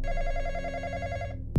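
Telephone ringing, a steady electronic trill pulsing evenly before it cuts off, followed by a sudden loud thump at the end.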